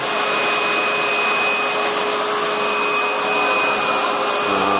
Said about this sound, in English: That's your high volume low pressure sprayer.